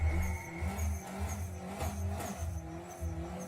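Dodge Neon SRT4 engine idling and revving in a burnout, a loud low rumble pulsing in uneven bursts close by, with a whine above.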